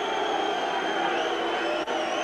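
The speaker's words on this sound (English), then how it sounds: "Booing all around Millmore." A large football crowd at a 1982 Rotherham versus QPR match boos steadily, a broad, continuous roar of disapproval filling the stadium without a break.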